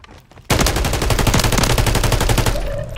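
Sustained automatic gunfire in a Warzone 3 match, a loud rapid burst of shots running continuously for about two seconds before cutting off, with faint ambient game noise around it.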